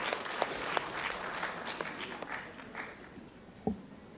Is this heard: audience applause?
yes